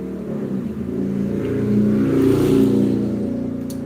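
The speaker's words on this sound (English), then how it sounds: "Don't you guys just love the sound of the traffic?" Street traffic outside, a continuous engine drone as a vehicle swells louder near the middle and then eases off slightly.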